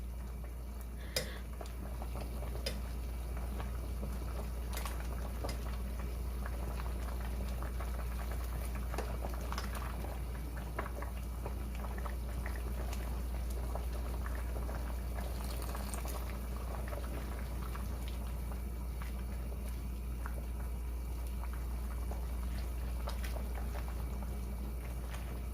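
A pot of food simmering on the stove, bubbling steadily and softly at a constant low level with faint ticks and pops, and no talking.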